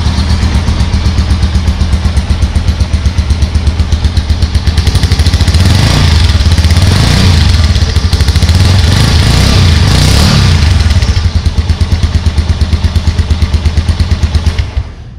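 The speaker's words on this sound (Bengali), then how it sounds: "তো চলুন আমরা এবারে মোটরসাইকেলটাকে স্টার্ট দিচ্ছি।" A Bajaj Avenger 160 ABS cruiser motorcycle engine fires up on the electric starter and settles into a steady, loud, close-up idle with a rapid, even thumping pulse that holds for most of the recording before cutting off at the end.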